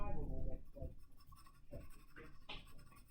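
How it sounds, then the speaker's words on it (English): A 2B pencil shading angled hatch lines on paper for a portrait drawing, soft scratchy strokes in short bursts, close, with a voice speaking over them. "I'm shading at an angle using sort of like little hatch lines going at an angle. I am using my 2B pencil."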